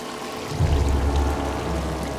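Water running from a tap in a film scene, a steady close pouring rush that swells after a brief quieter start and continues evenly, with no talk over it.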